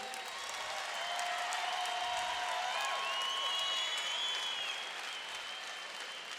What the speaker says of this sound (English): how about a round of applause here for these professionals here tonight?